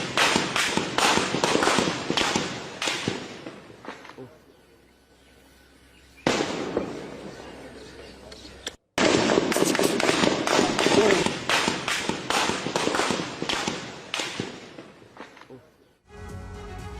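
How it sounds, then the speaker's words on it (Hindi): Gunfire at protesters in Rawalakot, Pakistan-occupied Kashmir: rapid loud cracking shots come in dense bursts with a quieter lull between them, heard amid crowd noise. "रावलकोट में प्रदर्शनकारियों पर फायरिंग हुई है"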